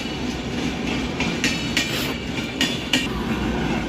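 A train plays back from a travel video on a device, a steady rumbling roll with rhythmic clickety-clack wheel beats and brief metallic bursts, heard moderately loud throughout without speech.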